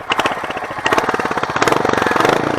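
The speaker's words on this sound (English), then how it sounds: "The exhaust note is a meaty BT type. That's it. It's a meaty BT type. And when you throttle it up," A Royal Enfield Hunter motorcycle's exhaust gives a deep, rapid, thumping beat that tightens and grows louder as the throttle opens, loud and close, with no talking.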